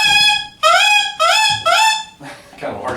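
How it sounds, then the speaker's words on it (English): A reed blown alone gives loud, harsh honks like a duck call: three sustained buzzy tones that rise slightly in pitch, then a rougher, breathier squawk at the end. The honks are close and come in short bursts with brief gaps. "This is going to sound kind of like a duck call."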